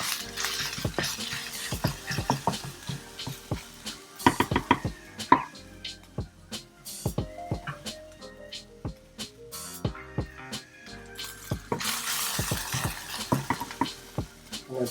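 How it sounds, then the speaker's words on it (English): Chili garlic paste sautés in a pan for Thai stir-fried beef with spicy herbs, with irregular sharp clinks and scrapes of a utensil against the pan and bursts of sizzling, close and fairly quiet. "Add 1/2 to 3/4 of the chili garlic paste. And saute this for fragrant."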